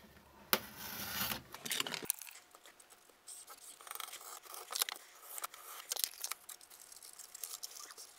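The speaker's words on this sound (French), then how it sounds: "Je vais couper les surplus de carton." Scissors snipping away excess cardboard from a homemade RGB LED lamp, a series of close, crisp cuts and crinkling paper-like rustles after an initial burst of handling noise, with no talking.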